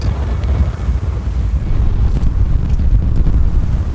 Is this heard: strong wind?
yes